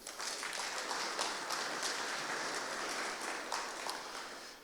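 Audience applause at a DefCamp 2025 security conference talk, a steady wash of clapping from a crowd filling the room, moderately loud and continuous throughout with no talk over it.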